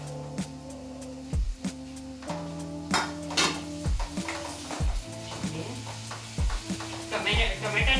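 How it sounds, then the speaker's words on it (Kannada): Chopped tomato added to golden-brown onions in a hot pan for dal khichdi, sizzling steadily while a spoon scrapes and stirs in a repeated rhythm of clanks, close and clear. "ಟೊಮೆಟೊ ಸೇರಿಸ್ಕೊತಾ ಇದ್ದೀನಿ"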